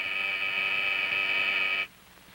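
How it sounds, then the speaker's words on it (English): A steady electric buzzer drones loudly as a sustained tone and then cuts off abruptly, leaving quiet room noise. "This buzzer starts that call."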